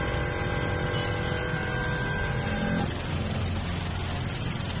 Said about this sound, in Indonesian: suara mesin sudah lebih halus